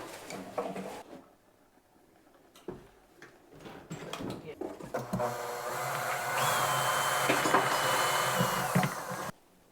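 A power drill whirs steadily for several seconds, loud and close, after scattered knocks and handling noises, then cuts off abruptly, during renovation of an old council flat in Edinburgh.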